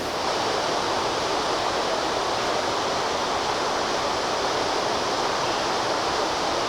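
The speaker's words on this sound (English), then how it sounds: "behind me is a beautiful waterfall called Une Cascade des Écrivices" A jungle waterfall and river cascade in Guadeloupe roars as a constant, dense wash of rushing water, steady and enveloping with no pauses or other sounds.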